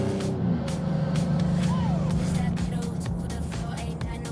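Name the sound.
sports car accelerating through corner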